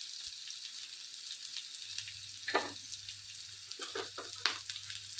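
Chopped onion and green chili pieces fry in a pan, a steady close sizzle with a low oily hum and a few brief bursts of stirring.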